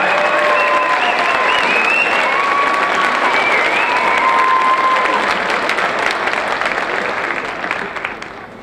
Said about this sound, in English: Please stand. Give them one more round of applause.